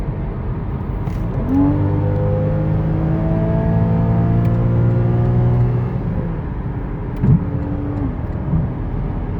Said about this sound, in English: Yeah, I'd say the engine's running good.